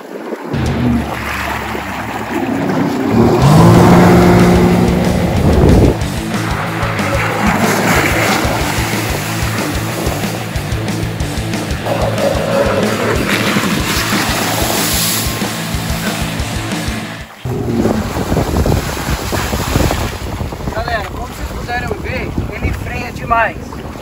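A 2020 Sea-Doo GTX 170 jet ski roars at high speed with a steady engine whine and heavy wind buffeting the microphone, then cuts out abruptly as it brakes hard before the engine picks up again.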